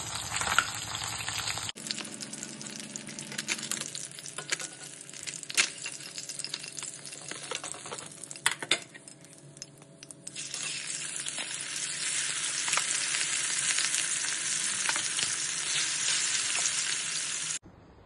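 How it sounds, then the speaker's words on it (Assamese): Fish pieces fry in a pan of oil for a fish curry, with a steady close sizzle that grows fuller and louder partway through, broken by a few scraping clicks. "মাছখিনিও ফ্ৰাই হৈ গৈছে। মই নমাই লওঁ।"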